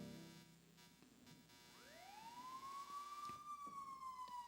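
A police car siren in a radio drama rises into a steady wail and holds, faint and distant against a quiet background.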